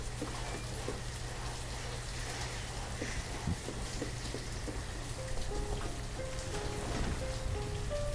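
Steady rain hiss from the village-building game Banished, a constant dense wash of falling drops at even loudness, with faint musical tones entering partway through.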